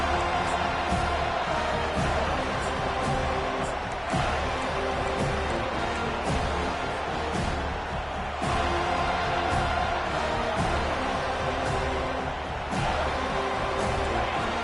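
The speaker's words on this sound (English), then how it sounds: "They challenge this crowd to bring the energy, and I'd say they're doing that." A stadium crowd at a football game cheers and roars in a dense, sustained wash of noise, loud and continuous, with swells of whoops rising throughout and no clear talk on top.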